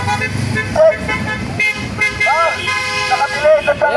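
Car horns toot several times amid busy traffic noise, with a voice talking over the honking.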